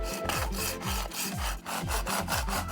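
A scraper dragged in steady back-and-forth strokes across a plastic cutting mat, each rasping pass loud and close, about nine strokes in an even rhythm with no voices.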